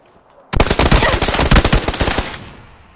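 Rapid bursts of automatic gunfire from a shooting video game, starting abruptly after a half-second of near silence and continuing as loud, dense repeated shots before tapering off.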